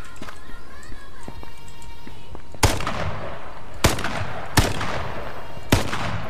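Gunfire in a video game: four sharp, loud shots spaced about a second apart over a low background game ambience.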